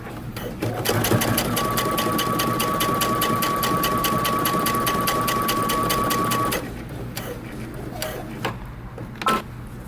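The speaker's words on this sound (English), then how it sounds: "I'm going to create a second row of stitching about 1/8 of an inch from the top" A sewing machine runs a second row of topstitching on jeans, a close, loud and steady rapid needle rattle for about six seconds before it stops, leaving quieter handling noises.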